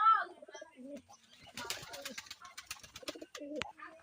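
Lotan pigeons coo in soft, throaty bursts close by at a pigeon farm, with some fluttering and rustling mixed in.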